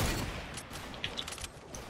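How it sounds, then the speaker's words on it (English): Sniper gunshots in Fortnite, a brief burst of sharp distant cracks over a noisy game background, no talk. "Yo, somebody's sniping at me."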